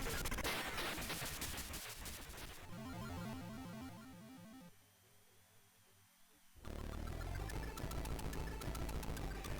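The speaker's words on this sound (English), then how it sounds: "nice little sort of end explosion. Obviously that's some the alien mothership or something like that, that's blowing up." Alien mothership blowing up at the end of the Amstrad CPC shoot-'em-up Star Sabre: harsh chip-sound explosion noise in shifting bursts, fading to a quieter stretch before another loud burst.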